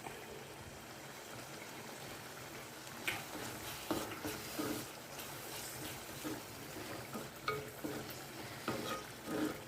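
Tomatoes and curry leaves frying for Maga fish pulusu, a faint, steady crackling sizzle with soft scraping stirs and occasional louder pops.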